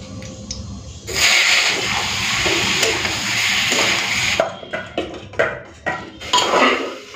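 Broccoli frying in a pan, heard as a steady broadband sizzle mixed with pan and utensil clatter, followed by a few sharper stirring knocks and scrapes near the end.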